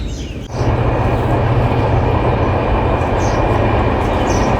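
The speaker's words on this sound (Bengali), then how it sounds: "বিশাল ট্রেন।" A large train rumbles past close by, a loud sustained roar of rolling wagons and rail noise that swells in abruptly and holds steady to the end, with no voices.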